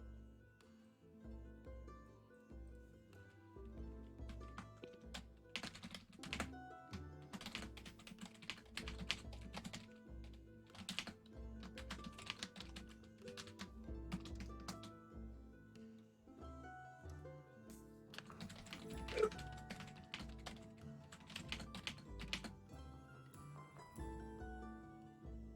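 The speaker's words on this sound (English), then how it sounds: "I was typing." Typing on a computer keyboard, a steady stream of quick clicky keystrokes with brief pauses, close and fairly quiet, with no talk over it.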